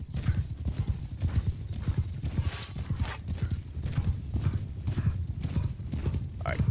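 Horse hooves clip-clopping in the video game Realm of Thrones, a dense rapid patter of many hoofbeats, loud and continuous, with a whinny near the end.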